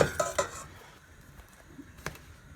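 A utensil scrapes and clinks against a pot while béchamel sauce is stirred quickly, a few sharp metallic knocks at the start and later, with softer stirring in between, quiet and close.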